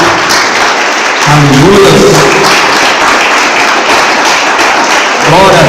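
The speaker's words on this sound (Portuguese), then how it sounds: "Vamos aplaudir nosso Deus." Applause from a church congregation fills the whole stretch as steady, dense clapping, with voices talking and exclaiming over it.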